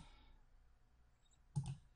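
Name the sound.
computer mouse clicking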